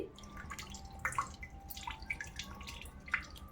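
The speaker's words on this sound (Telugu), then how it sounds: "ఇలాంటి చిల్లులు దాంట్లో వేసుకుంటే వాటర్ అంతా కూడా వచ్చేస్తాయండి" Soft, irregular drips of water from soaked rice in a perforated strainer patter down one by one, faint and close, with small plinks scattered over a quiet background.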